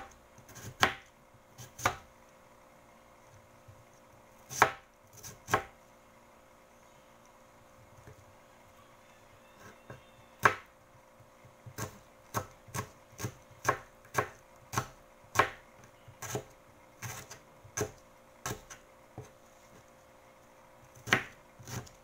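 Cucumber being sliced with a knife on a board, a series of sharp, crisp chops, some isolated and some in quick rhythmic runs, close and clear over quiet background.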